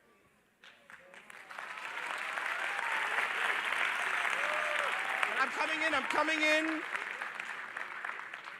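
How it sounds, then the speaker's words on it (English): Audience applause fills a public talk by an astronaut at an astronomy general assembly, a steady dense clapping that swells and holds for several seconds while a voice speaks over it. "Let's give them a round of applause."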